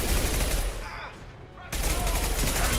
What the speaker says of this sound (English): I would be doing a lot better too if this freaking SMG wasn't the worst.